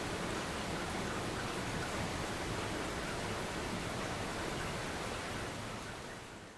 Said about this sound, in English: Hear the rain.